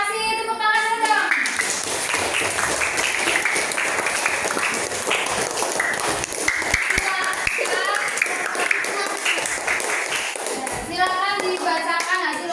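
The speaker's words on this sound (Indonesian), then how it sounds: "Kasih tepuk tangan dulu dong." Children in an Indonesian classroom clap together in a lively, continuous burst of applause, with a voice heard briefly at the start and end.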